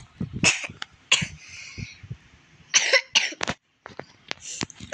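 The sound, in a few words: coughing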